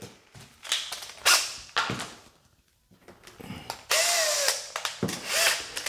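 A drill countersinks a screw hole in a block of wood during a prefinished white oak pocket door install, giving several short whirring bursts with pauses, then a longer sustained grinding run near the end, close and fairly loud.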